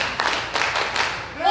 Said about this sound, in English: And the crowd showing their appreciation.